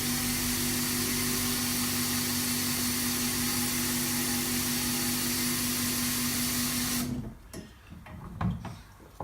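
A low pressure portable carpet extraction machine runs with a steady loud whine and hum, then cuts off abruptly near the end, leaving brief clunks and quieter residual noise.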